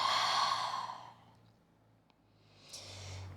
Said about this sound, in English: Let's take another full breath in and complete breath out.